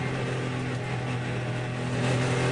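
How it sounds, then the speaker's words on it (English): Porsche race cars circulate during the 2011 Hampton Downs 12 Hour race, a steady, droning engine hum that holds constant and swells slightly toward the end, with no voices. "This is Brett Nile in the second of the Australian Porsches, currently sitting in second place"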